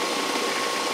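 An electric motor wired for 230 volts running as part of an alternator test circuit, fed from a large transformer at 240 volts, giving a steady, dense mechanical whir with a faint buzzing hum, continuous and close, with no voice.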